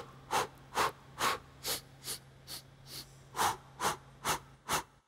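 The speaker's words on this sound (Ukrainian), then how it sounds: "вдихати повітря 4 рази и видихати 4 рази" Rhythmic diaphragm breathing exercise for a young vocalist: a series of about eleven distinct, close breaths in and out, evenly spaced with short pauses, over a faint steady hum.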